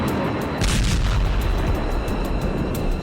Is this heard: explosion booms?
yes